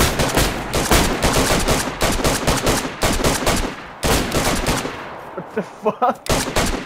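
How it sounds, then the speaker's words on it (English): Rapid bursts of gunfire from shooting zombies in the survival video game DayZ on PS5, loud dense volleys under excited talk, thinning toward the end into a few sharp separate shots. "Shooting zombies."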